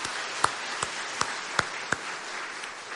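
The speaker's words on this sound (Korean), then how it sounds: "우리 찬양대에 감사의 박수 한번 하겠습니다." Church congregation applauding the choir during a Sunday worship service, a dense wash of clapping from a large room, steady and even, with a few sharper claps standing out.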